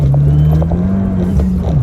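Abarth 595 with extensive tuning, engine revving hard while driving, a loud steady droning tone that climbs slightly and dips near the end, alone with no talk.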